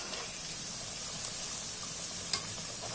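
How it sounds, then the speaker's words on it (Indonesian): A continuous, even sizzle of tofu and tempeh frying in hot oil, close and steady, with a couple of brief pops. "Tahu dan tempe kita goreng sekaligus."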